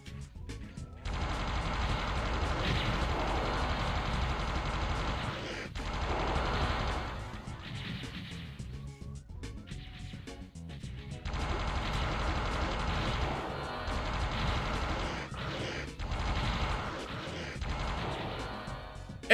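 Rapid, heavy weapon fire from a plasma gun in a Doom mod, with dense bursts of shots that run nearly continuously and break off in a few short gaps.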